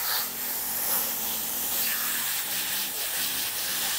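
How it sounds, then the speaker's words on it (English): A hose sprays water to soak a horse's tail and its underside, a continuous close hiss with slight wavering and no speech. "A lot of the times when we're spraying these tails, the backside, the underside"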